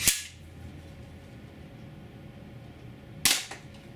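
Two sharp snapping BB gun shots from an old Daisy air rifle fire through a chronograph, one at the start and one near the end, with quiet room tone between.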